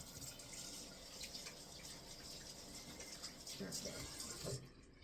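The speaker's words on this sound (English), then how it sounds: "I'm going to wash my hands, get that sunscreen off my..." Water runs steadily from a bathroom tap as hands are rinsed of sunscreen, a continuous close hiss of flow with small splashing changes, cutting off abruptly near the end.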